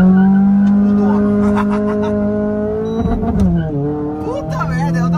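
A tuned Renault Sandero RS making over 135 wheel horsepower revs hard with a loud, sustained engine drone that dips briefly midway and then climbs again.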